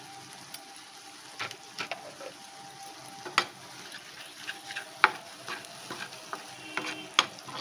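Cabbage seasoned with sugar and salt is stir-fried in a pan. A low frying hiss runs under repeated scraping and clicking strokes of a utensil against the pan, close and moderately loud, with no talk.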